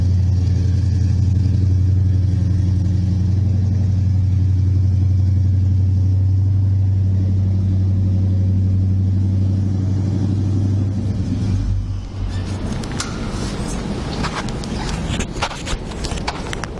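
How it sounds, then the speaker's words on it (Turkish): A 1969 Chevrolet Chevelle V8 with a four-speed automatic rumbles at a steady, deep idle up close, then blips and revs with a rougher, louder roar near the end. "Aracın sesi yeter."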